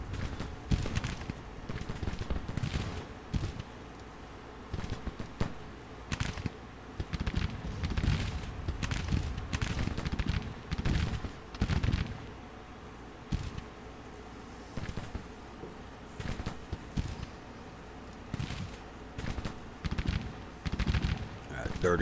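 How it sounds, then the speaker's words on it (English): Civil War infantry volleys in a video game, ragged crackling musket fire popping in dense, uneven bursts across the line, moderately distant and continuous, with a voice talking now and then. "30s are firing"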